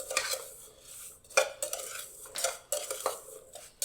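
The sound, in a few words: mixing rhubarb with sugar and cornstarch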